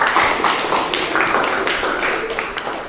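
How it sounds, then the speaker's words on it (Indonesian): Students in a classroom applaud, a dense, steady patter of many hands clapping close by for about three seconds with hardly any talk. "Tepuk tangan"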